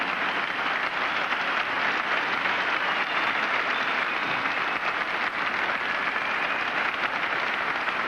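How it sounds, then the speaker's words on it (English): A large arena crowd at the 1988 DTB Cup gymnastics meet in Stuttgart applauds steadily after a women's routine, producing dense, even clapping that holds at full strength throughout. "A really appreciative crowd here in Stuttgart as they applaud that performance"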